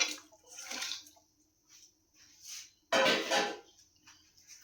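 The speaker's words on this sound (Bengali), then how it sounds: "এবারে আমি এর মধ্যে জল দিয়ে দেব।" Water poured into a pan of cooking masala for a Bengali shol fish curry (kaliya), a brief splashing burst that rises sharply, then settles into softer hissing and sizzling close by.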